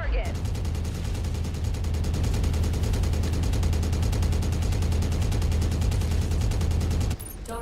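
Mech weapons firing together on one target in MechWarrior 5, a loud, dense, rapid stream of cannon and gun bursts with a deep rumbling undertone, sustained for several seconds before cutting off abruptly.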